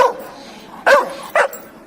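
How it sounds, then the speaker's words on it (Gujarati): A dog barks sharply and loudly up close: an opening yelp followed by two distinct barks spaced about half a second apart, with nothing else audible. "કૂતરું ભસે છે"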